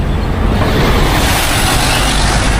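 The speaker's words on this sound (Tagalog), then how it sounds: "May mga dumadaan pa sasakyan." Vehicles rush past on a busy highway, a loud, unbroken roar of cars and trucks close by that swells slightly as they go, with no one speaking.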